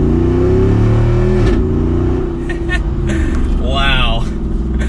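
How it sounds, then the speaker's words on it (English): A 2021 Jeep Wrangler 392 Rubicon V8 rumbles loudly through its performance exhaust, revving with a deep steady drone and swelling near the end while someone talks over it. "Let's give it a little bit of gas in that performance setting here."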